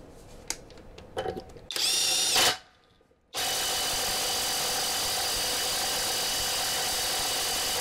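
A Topshak TS-PW3 cordless impact wrench starts with short bursts and a loud whine, falls briefly quiet, then runs in a loud, sustained, harsh hammering whir that continues to the end.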